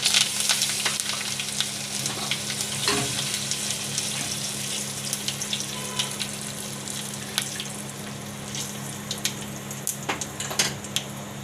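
Cumin, asafoetida, curry leaves and chillies sizzling in hot oil for a stuffed chilli kadhi, a dense continuous crackle with scattered sharp pops and a low steady hum beneath, close and without talk.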